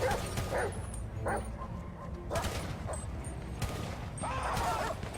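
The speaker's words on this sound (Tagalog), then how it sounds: "Uy, may aso pala dito." Dogs bark and yip in repeated sharp bursts, fairly close and loud, with a few whimpers, heard while players move through a shooter game with a gunfight going on.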